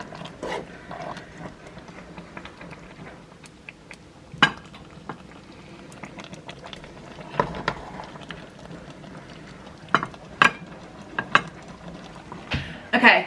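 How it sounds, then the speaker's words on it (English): A big spoon serving soup from a pot, with scattered clinks and scrapes of metal against the pot and faint liquid sounds, close and intermittent. "So I don't have a ladle anymore. So this big spoon will do."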